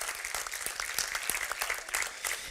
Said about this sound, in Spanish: Vamos a darle un aplauso a Mervin